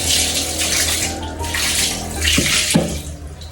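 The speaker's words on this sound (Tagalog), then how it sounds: "Magbanlaw na po si YMG." Running water pours steadily while rinsing during household cleaning, a loud continuous splashing rush with a couple of soft knocks partway through and no voices.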